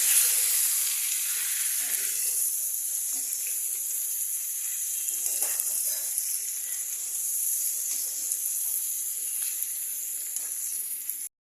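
Fried vegetables, cashews and raisins stirred together in a hot pan for navratan korma, giving a steady bright sizzle and hiss throughout, with faint scrapes and clinks of the spoon beneath it.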